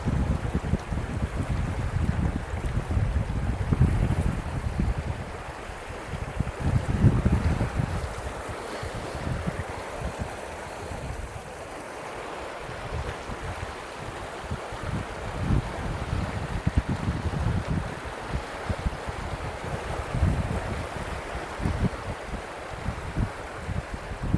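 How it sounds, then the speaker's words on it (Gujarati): Water rushes heavily through the Narmada canal at a dam near Koba Circle, a loud continuous roar with gusty wind buffeting the microphone throughout. "કેટલું ફફારા લઈ રહ્યું છે પાણી"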